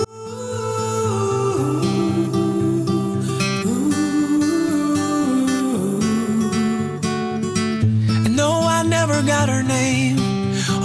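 Live vocal duet with instrumental backing played in a radio studio, a continuous loud song with sustained sung melody over steady chords, no talk over it.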